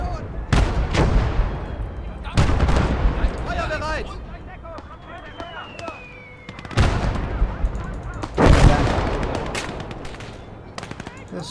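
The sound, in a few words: gunfire in a tank battle video game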